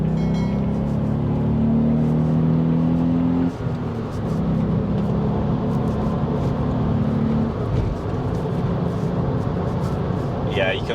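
A VW Up GTI hums steadily from the cabin while driving, with a droning engine and exhaust tone that dips briefly at a gear change and then settles back into a constant note.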